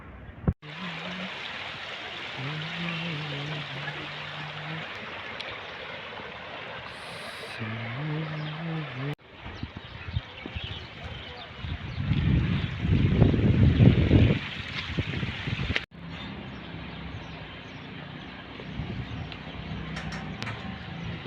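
Dyed wastewater from a textile factory pours straight into a river, a steady rushing flow heard outdoors with wind and a faint hum, swelling louder midway.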